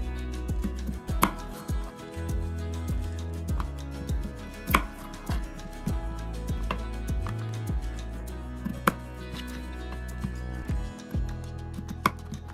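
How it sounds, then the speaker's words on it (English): A knife chops potatoes on a cutting board in sharp, separate knocks that come at an uneven pace, each one clear and close, with quiet gaps between strokes and no speech. "Now we are going to cut up these potatoes just so it can be easier to cook"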